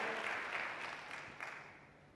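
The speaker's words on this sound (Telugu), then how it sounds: "దేవుని నమ్మిన వారు గట్టిగా చప్పట్లు కొట్టి ప్రభువును అనుమయపరచండి" Church congregation clapping in a dense, sustained wash of applause that stays loud and steady before easing slightly toward the end.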